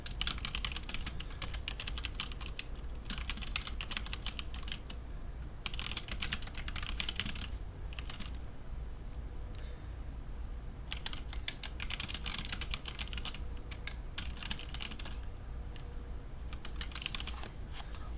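Quick bursts of computer keyboard typing come and go over a constant low hum, the keystrokes clustered in short runs with brief pauses, fairly quiet and nearby.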